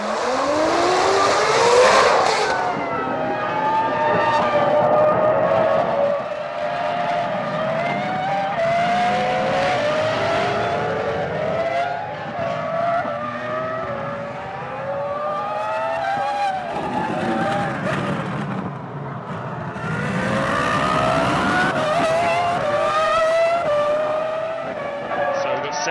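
Formula 1 cars race at the 2004 Brazilian Grand Prix in São Paulo, their high-pitched engines rising and falling in pitch as they pass in waves, loud and continuous, with a commentator talking over them.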